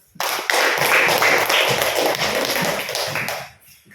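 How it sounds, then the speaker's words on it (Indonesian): A classroom group claps for a student team, a short, loud burst of close hand claps lasting about three seconds before fading out. "kita berikan tepuk tangan untuk kelompok jujur."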